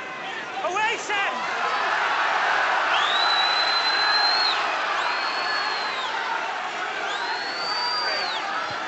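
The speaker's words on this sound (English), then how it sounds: "the crowd of the home supporters protesting to the touch judge on this side" Rugby crowd of home supporters at a Scarlets versus Ospreys match loudly protesting to the touch judge, a sustained roar of shouting with rising whistles and jeers throughout, near and dense.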